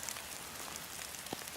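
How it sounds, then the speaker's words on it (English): Heavy rain pours down outside the Mother of Darkness castle, a dense, continuous hiss of drops spattering on surfaces, fairly soft overall with a few sharper nearby splats. "It's raining like hell."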